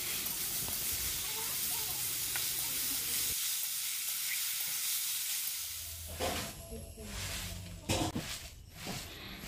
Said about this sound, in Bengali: আর একটুখানি কালো জিরে ফোড়ন দিলাম